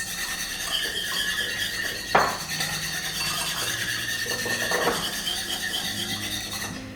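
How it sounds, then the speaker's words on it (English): A whisk stirs chia seeds into liquid in a bowl, making a steady, close scraping swish that runs throughout, with a couple of sharper clinks along the way. "You just want to whisk them for a minute, if that, like 30 seconds."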